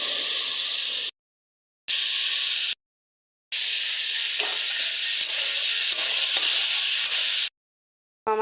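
Potatoes frying with green chillies, salt and turmeric give a loud, steady sizzle close by, with scraping as the pan is stirred, broken by a few brief cuts to silence.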